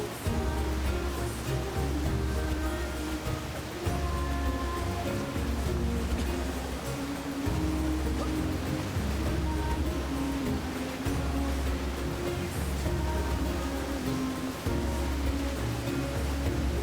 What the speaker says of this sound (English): It's like a double waterfall.